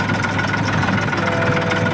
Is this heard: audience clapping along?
no